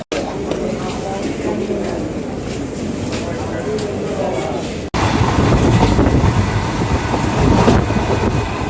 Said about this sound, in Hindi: Chennai central Mumbai Chhatrapati Shivaji Maharaj terminus express यहाँ कुछ मिनट देरी से चल रही है